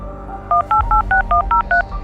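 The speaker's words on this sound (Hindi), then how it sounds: "फोन पर एक नंबर डायल किया" A telephone keypad sounds eight short touch-tones in quick, even succession as a number is dialed, clear and close against a low background hum.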